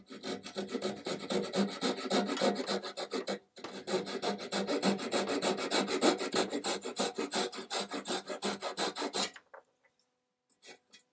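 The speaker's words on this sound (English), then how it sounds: "now use a flush cutting saw to cut this off" A flush cutting saw rasps back and forth through a wooden dowel held in a vise, fast even strokes close up, briefly pausing once and then ending abruptly.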